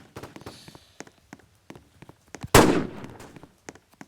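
Gunfire in a sniper-focused shooter video game, heard as a rapid scatter of short, sharp cracks across the clip with one loud, close blast partway through that trails off.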